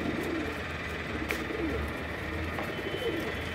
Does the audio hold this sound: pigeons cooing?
yes